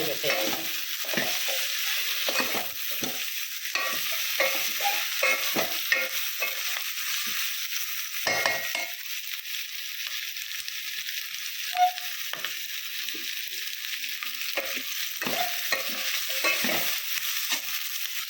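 Ginger garlic paste and turmeric sizzle in a pan for Andhra-style sambar, a continuous frying hiss running throughout under soft, irregular scrapes and stirs of a spoon, with no talking.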